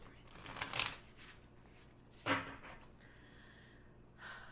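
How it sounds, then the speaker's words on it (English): A tarot card deck is shuffled at close range, producing soft riffling and brushing bursts against quiet background noise. "One more good shuffle."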